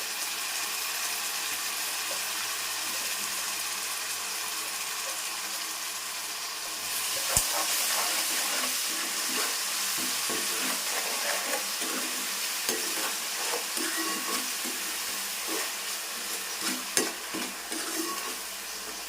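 Ground onion paste frying in a pan for Nellore-style fish curry gives a steady, loud sizzle, with a sharp hiss flaring as more goes in and scraping stirs and clinks breaking through the crackle.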